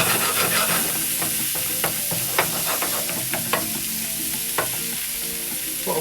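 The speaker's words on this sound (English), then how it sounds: "And then in with your tomato, your pepper, onion and garlic." Tomato, pepper, onion and garlic frying in a hot pan, a loud continuous sizzle and hiss with repeated crackles and occasional stirring scrapes, close up and free of talk.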